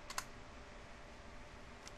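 Keystrokes on a computer keyboard while a networking command is entered, a quick faint cluster of clicks at the start and one lone tap near the end, set against a quiet steady background hiss.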